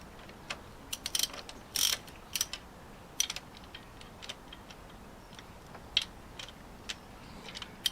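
A ratchet spanner clicks in quick irregular bursts while undoing the injector clamp bolts on a Land Rover Discovery 2 TD5 10P engine, close and fairly quiet, with sharp metallic ticks and short pauses.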